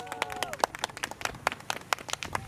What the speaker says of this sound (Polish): Gromkie brawa dla osoby,